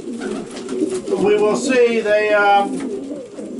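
Young racing pigeons coo in a loft on basket day for a race, soft repeated throaty calls close by, while someone talks over them.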